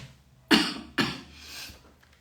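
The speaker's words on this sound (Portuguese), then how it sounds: "Acabou até me dando um pigarrozinho aqui." A person clears their throat twice at close range, two sharp, rough bursts about half a second apart, with a lingering rasp after the second and quiet surroundings.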